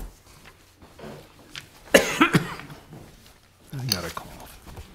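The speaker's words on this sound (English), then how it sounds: "I got a cough." A single person coughs a few times in quick succession during public comment at a local government meeting, a close, clear burst amid a quiet hall with low talk around it.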